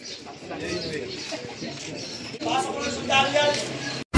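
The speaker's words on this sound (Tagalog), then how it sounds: "ito kararating lang yung ibon." A racing pigeon arrives and pigeons coo softly amid a busy, noisy crowd at a pigeon race, with chatter and whistles throughout, ending in a sharp click.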